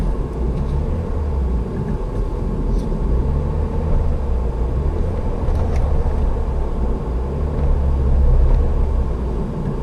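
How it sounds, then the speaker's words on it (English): A Pajero Mini creeps down a steep volcano road in first gear, with a steady, low engine rumble and road noise that stays even and loud throughout with no talking. "This is gonna be a first gear, low and slow. Working the brakes."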